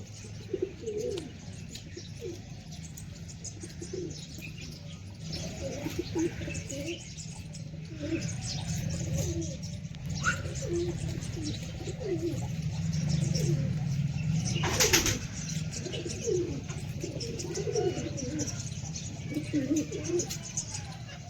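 Pigeons coo in low, repeated throaty calls around a loft setup, with occasional wing flaps and chirps, while someone talks nearby throughout.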